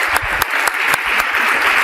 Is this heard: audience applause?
yes